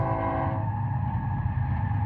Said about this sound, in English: You can hear the train going by.